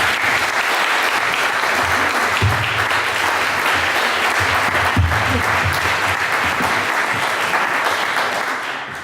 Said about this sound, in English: a big round of applause for Elaine C Smith